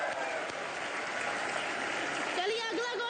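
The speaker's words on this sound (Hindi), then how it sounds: "जोरदार तालियां इनके लिए।" A comedy show studio audience applauds in a steady, moderately loud wash of clapping, with a voice starting to speak over it near the end.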